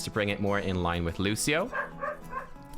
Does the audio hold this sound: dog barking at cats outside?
yes